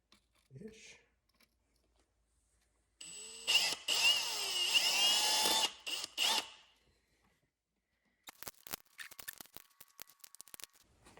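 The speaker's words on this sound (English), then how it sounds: "I'm gonna drill one right about here-ish." A power drill whines steadily for about three seconds drilling a hole during a car boost controller install, stops and restarts briefly, followed by scattered clicks and handling clatter; a brief voice sounds near the start.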